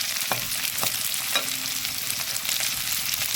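Onions fry gently in oil over a low flame, giving a steady soft sizzle with a few light stirring scrapes, close and alone.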